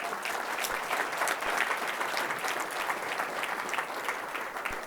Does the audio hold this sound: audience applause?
yes